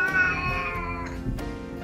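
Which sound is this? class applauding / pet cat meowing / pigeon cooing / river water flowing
pet cat meowing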